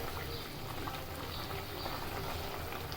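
Curry broth with moringa drumsticks and shrimp simmers in a pot, giving a steady, dense bubbling hiss that stays even throughout, with no voices.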